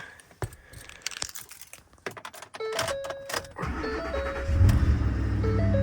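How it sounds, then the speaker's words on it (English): Ford F-150 4x4 pickup truck starting on a cool morning around 50 degrees: key clicks and dash chimes, then the starter cranks and the engine catches into a steady, loud idle close by, with a faint heat shield rattle. "It's sort of almost a cold start this morning."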